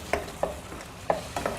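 Ground masala and tomatoes sautéing for a peas gravy, heard as a soft sizzle broken by four sharp spoon stirs and scrapes against the pan, close and without speech.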